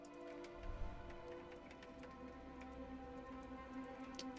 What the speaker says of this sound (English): Look, the rain's coming in through the roof.